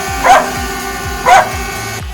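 Two sharp dog barks in Las Terrenas, Dominican Republic, about a second apart, close by and loud over a droning mechanical hum with a steady repeating pulse.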